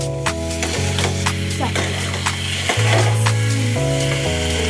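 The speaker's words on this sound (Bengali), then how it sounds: "এই যে আলু দিয়ে নাড়া হচ্ছে, দেখুন।" Boiled potatoes stirred and fried in a pan for a paneer curry: a bright, steady sizzle with spatula knocks and scrapes, heard over a sustained tonal background tune that shifts pitch.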